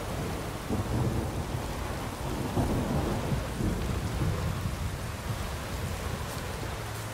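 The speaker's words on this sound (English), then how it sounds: "Why is it raining?" Steady rain with rolling thunder fills a stormy scene in the video game The Witcher 3: Wild Hunt, a dense constant wash with low rumbles underneath, with no talk over it.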